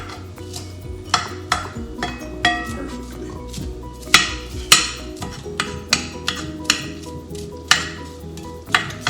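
Onions sauté in a pan for a healthy quesadilla, with a soft constant sizzle broken by sharp, repeated scrapes and clanks as a utensil stirs them, up close, and a brief spoken word.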